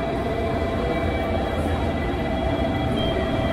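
Steady, continuous rumble of the JR Kyushu Midori limited express running, heard from inside the carriage with constant low-frequency roar and faint high hum, no talk.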